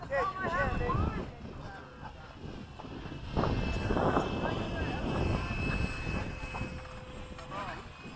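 A Freewing 70mm F-35 RC model jet on the runway, its electric ducted-fan engine giving a steady whining hiss under wind noise while people talk nearby.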